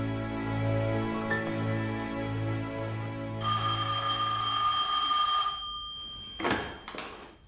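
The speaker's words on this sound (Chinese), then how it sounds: "好的，陆科长，你的电话。" A telephone rings at a police station in repeated rhythmic bursts, followed by a steady ringing tone and a couple of sharp knocks as the receiver is picked up.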